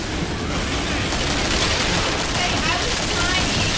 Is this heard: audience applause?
no